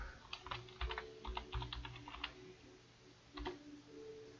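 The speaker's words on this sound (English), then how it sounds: "We're going to type" Quiet, rapid typing on a computer keyboard, with bursts of clicking keystrokes, a short pause, then a few more clicks near the end.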